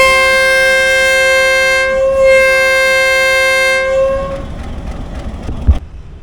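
A long, loud train horn blares steadily at Lahore Junction railway station for about four seconds, then gives way to lower rumbling rail noise with a sharp thud near the end; no one speaks.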